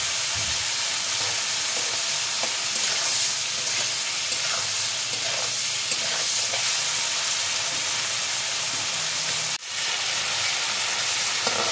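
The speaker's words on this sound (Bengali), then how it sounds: "চিংড়ি মাছ দেওয়ার সঙ্গে সঙ্গে ভালো করে একটু নেড়ে দিতে হবে।" Prawns fry and get stirred in a pan of mustard masala, giving a steady, loud sizzle and hiss that runs the whole time, with one brief sharp scrape near the end.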